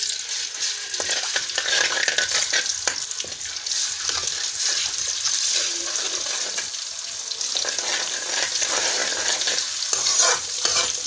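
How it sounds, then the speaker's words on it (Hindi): Garlic sizzles in hot oil while a spoon stirs it steadily, giving a continuous crackling fry with scraping strokes for mutton korma. The sound is close and constant, with no talking. "और दूसरी तरफ उस तेल में हम लहसुन ऐड करेंगे।"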